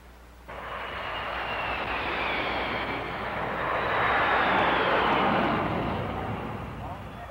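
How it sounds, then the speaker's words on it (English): A jet aircraft landing at a large metropolitan airport, a broad steady engine roar that swells loudly toward the middle and fades slightly, with a voice speaking faintly underneath. "These jets landing at a large metropolitan airport"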